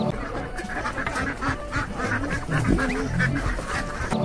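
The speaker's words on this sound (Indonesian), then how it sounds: "Ini angsa teman-teman" Repeated honking calls from a goose, several in a row at moderate distance, with no talking.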